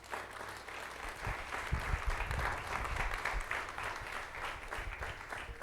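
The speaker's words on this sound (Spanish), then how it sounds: "Yo le daré un aplauso al Padre." A church congregation breaks into steady applause for the Father, producing a continuous wash of clapping at moderate, even loudness from a crowd in a large room, with a low rumble underneath.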